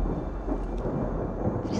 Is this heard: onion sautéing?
no